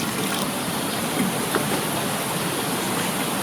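Water pours steadily at a fountain sculpture in Ruše, a dense, even rushing wash heard close and continuous without pause.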